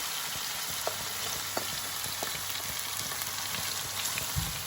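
Garlic powder sizzles in oil in a pan while macaroni is being made, a steady crackling hiss with small pops and faint scraping, close and continuous with no talk.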